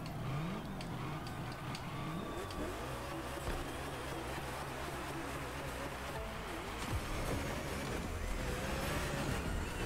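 A car in the racing game The Crew Motorfest holds a burnout, its engine droning and revving continuously for about ten seconds under a dense, roaring wash of tire noise, loud and unbroken, with no voices.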